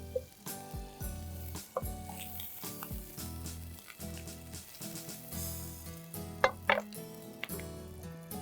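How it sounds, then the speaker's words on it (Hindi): Mixed nuts of almonds, pistachios and walnuts sautéing in butter in a pan, giving a steady sizzle with stirring and scraping clatter, plus a couple of sharper clinks near the end. "नट्स को सौते करना है बटर में"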